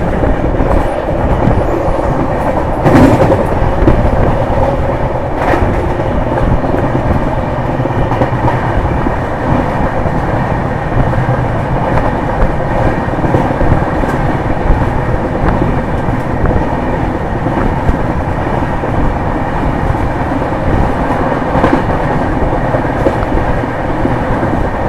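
A long-distance passenger train in India rolls along the rails with a loud, constant rumble, carriage rattle and recurring clickety-clack from the wheels, heard from inside the coach.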